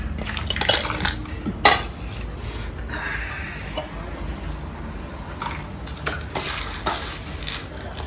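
Roasted spices and dals for a spicy powder of drumstick leaves and curry leaves are tipped into a mixer jar, making clattering metal and utensil knocks with a few sharp clinks, close and fairly loud.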